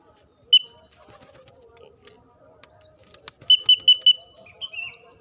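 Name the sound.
pigeon wings flapping in flight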